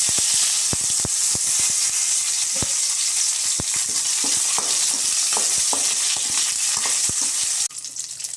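Curry leaves crackle and sizzle in hot oil inside a pressure cooker, a loud, steady hiss dotted with sharp pops and spatters throughout, shifting slightly near the end, with no talking.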